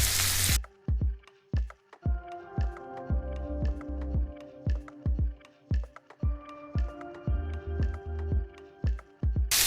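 Drumstick pieces for a coconut-milk curry fry with turmeric and salt in a pan. Steady close sizzling runs throughout, broken by regular scraping stir strokes.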